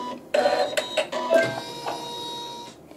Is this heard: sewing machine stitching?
yes